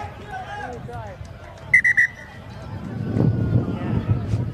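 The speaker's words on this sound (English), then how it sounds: "that's a loud whistle" Several sharp, shrill referee's whistle blasts ring out in quick succession at a professional rugby match amid crowd noise, followed by rising crowd murmur.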